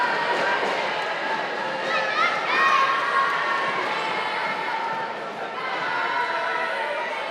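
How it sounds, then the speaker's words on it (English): Youthful crowd cheering and shouting at a 2024 Absolute GP jiu-jitsu match between Kaynan Duarte and Dante Leon, a distant, swelling roar of voices with a commentator talking over it. "Some support for Kaynan Duarte out of the youth in the crowd"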